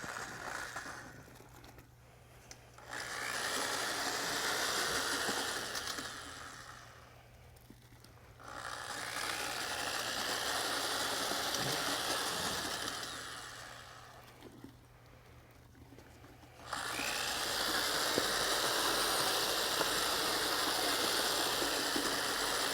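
Concrete overlay material stirred in a bucket with a mixing paddle, giving a steady rough churning and scraping that swells and eases in long stretches, moderately loud and close, with no talk.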